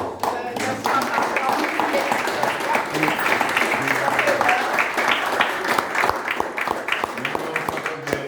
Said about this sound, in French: j'attendais que le public finisse d'applaudir